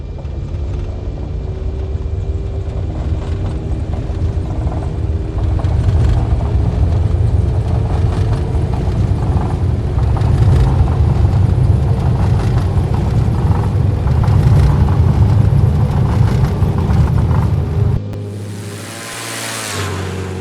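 Piper Archer III single-engine propeller plane in the X-Plane 11 simulator takes off, a steady loud engine and propeller drone holding for about eighteen seconds before cutting away to a brief different sound.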